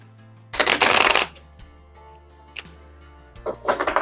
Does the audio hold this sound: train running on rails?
no